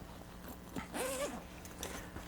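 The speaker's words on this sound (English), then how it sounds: "Zippers on the sides that go right down to the base." A zipper on the side of a Bluetti backpack power station is pulled open in a short, faint rasping stroke that lasts about half a second, against a quiet room.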